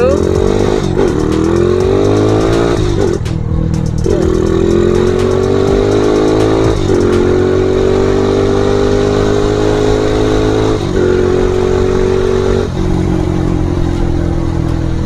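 A Honda CB motorcycle pulls away from first gear and accelerates hard, its loud, close engine note climbing steadily in pitch through several gear changes, with brief dips between each shift.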